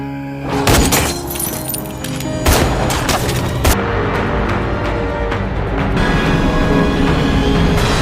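Sniper rifle gunshots in an action film ring out as several sharp loud cracks with booming tails, mixed with shattering and crashing debris, in a dense, intense soundtrack without talk.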